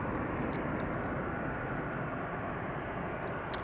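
KLM Boeing 737-800 arriving at Amsterdam Schiphol: a broad, steady jet engine roar that holds evenly loud throughout, with a faint click near the end.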